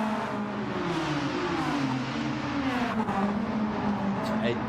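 A Mazda RX-7 race car drives a league race in a classic DTM-style racing game at Grand Valley, passing a Cosworth with a steady high engine drone and shifting pitch as the cars overtake, beneath a commentator's talk.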